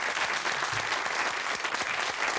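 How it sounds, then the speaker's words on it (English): An audience at a primary school children's concert gives a round of applause: close, steady clapping that fills the whole stretch at an even level, with no one speaking. "Big round of applause,"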